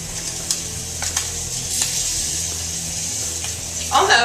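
Scallops sear in a hot pan, a close, bright continuous sizzle with a few soft clinks and a low hum beneath, swelling louder near the end.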